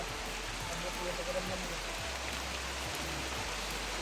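Steady rain pours down in a dense, even hiss, constant and close throughout, with faint low rumbles beneath and no talking.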